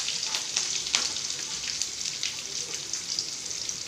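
Mustard seeds, curry leaves and onion sizzle hard in hot oil during home cooking. The bright hiss runs the whole time, close up, with scattered crackles and pops from the seeds.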